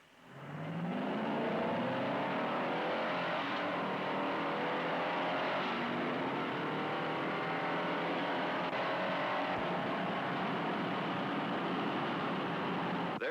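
A Ford Galaxie and a Chevrolet Impala racing from the 1950s–60s: a steady, loud engine roar rising in pitch as the cars accelerate, sustained without pause and with no talking.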